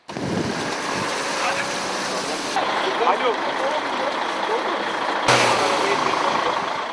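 Trucks and cars stranded on a snow-covered road near the Hamzabeyli border gate in Edirne make a continuous broad rumble mixed with a wind-like wash. The sound stays steady and fairly loud, with abrupt shifts in texture partway through.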